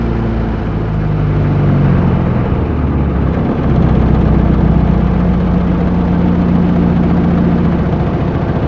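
Rotec Legacy 2200 engine on a Jabiru aircraft idling, a loud, steady, close drone with a low rumble that holds even throughout, with no talking.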